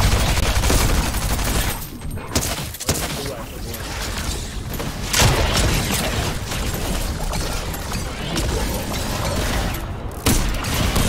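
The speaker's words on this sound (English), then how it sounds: "I'm just using a shotgun at this point because I don't have any ammo." Shotgun gunfire in a Fortnite horde-rush match: dense, loud repeated shots and booms fill the whole stretch, with a few sharper blasts standing out and voices talking underneath.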